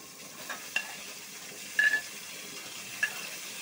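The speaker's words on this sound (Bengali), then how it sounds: "এবার আমি আলুটা দিয়ে দিলাম, আলুটা একটু ভেজে নেব।" Potatoes fry in oil with onions in a home kitchen pan, a quiet, steady sizzle broken by a few sharp clinks and scrapes of stirring.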